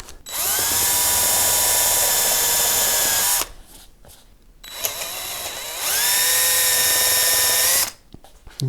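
A power drill with a 4mm bit bores out a hole in a Blackguard Esquire guitar neck, two long loud steady whining runs with a brief quieter pause between them.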